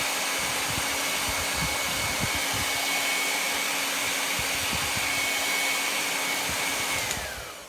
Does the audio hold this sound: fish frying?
no